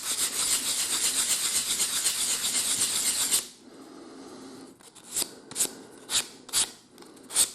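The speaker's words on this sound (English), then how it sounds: "I'm working with 220 grit sandpaper because I don't want to remove a lot of material." A wooden steam engine part is sanded by hand with 220 grit sandpaper, first in a steady, continuous scratchy rub lasting a few seconds. Then, after a quieter pause, comes a run of short, sharp rasping strokes, close and fairly loud.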